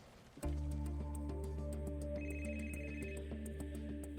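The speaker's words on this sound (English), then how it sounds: "Dr. Chua woke up to the sound of his phone ringing." A phone rings in a bedroom in the morning, a steady repeating electronic ringtone sounding alone and fairly close for several seconds.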